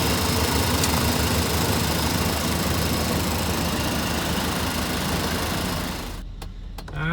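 A 1987 Chevrolet Suburban engine runs steadily while warming up, a loud, even rumbling idle heard up close for several seconds before it cuts off abruptly near the end.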